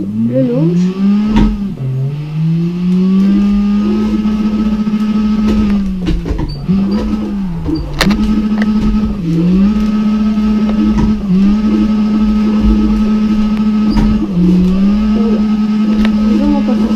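In the CarX Drift Racing video game on PlayStation, a race car engine revs hard at the launch, then settles into a loud, repeated rising and dipping whine as it shifts, while someone talks over it.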